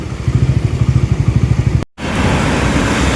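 A bike taxi's motorcycle engine, overdue for an oil change and in poor condition, putters close by in a rapid, throbbing idle, cuts off briefly, then returns as a louder, rougher rush of noise.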